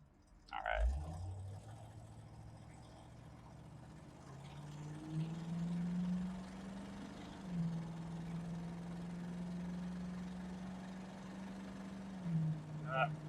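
A 1970 Ford Mustang Mach 1 engine while driving, a steady low drone that rises and holds through gear changes, with a brief rev at the start and a faint voice underneath.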